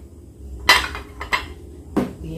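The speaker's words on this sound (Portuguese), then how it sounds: "Pega ali a panela de pressão." A metal pressure cooker pot clanks as it is picked up and handled in a home kitchen while cassava is being cooked, with three or four close, sharp knocks over a couple of seconds.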